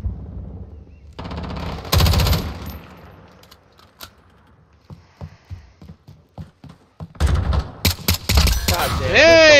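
Gunfire in Call of Duty Modern Warfare: rapid automatic bursts and scattered single shots, loud and close, with quieter gaps between volleys and game sound effects near the end.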